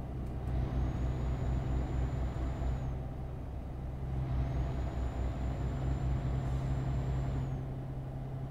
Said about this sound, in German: Was bremst denn du andauernd, sage mal?